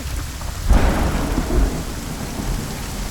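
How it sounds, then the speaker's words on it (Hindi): A thunderstorm pours heavy rain while a loud thunder crack bursts in and rolls away into a steady downpour. "तूफान आया है ना"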